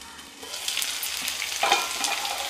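Ingredients sauté in hot oil for restaurant-style garlic chicken, giving a bright, continuous close-up sizzle with a couple of stirring scrapes and no voices.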